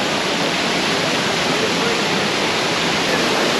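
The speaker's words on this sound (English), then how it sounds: "What a nice waterfall, man." A jungle waterfall roars as a steady, broadband rush of falling water, loud and close, unbroken and alone throughout.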